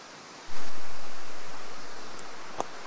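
The Salto Santa Clara waterfall cascades nearby, a broad roaring wash that surges in loudly after a quiet moment and then holds steady, with one brief click near the end.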